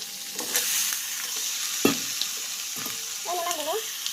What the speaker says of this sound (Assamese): পাৰ মাংস ভাজা হৈ গ'ল